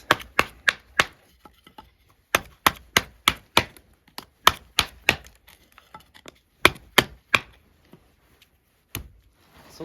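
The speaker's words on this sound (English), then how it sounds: "pretty good for some light chopping tasks." Light chopping with a Cold Steel SRK Compact knife on a piece of wood gives a quick series of crisp, close thwacks, bursts of rapid strikes broken by short pauses, about twenty blows in all, without speech.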